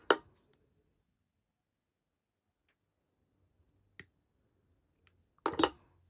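A sharp snip of wire cutters trimming wire for handmade bead earrings, heard as a crisp click at the start, a faint tick near the middle and a louder double snap near the end, otherwise quiet.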